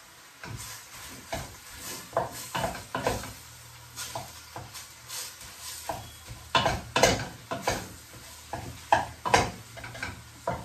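Food sizzles softly in a pan over low heat while a utensil stirs and scrapes in repeated short bursts, close by, with no talking.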